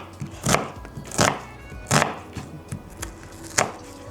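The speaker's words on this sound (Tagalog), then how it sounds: "habain muna natin itong sibuyas" An onion is cut lengthwise with a knife on a cutting board, about eight sharp chopping knocks at an uneven pace, close and clear with no talking.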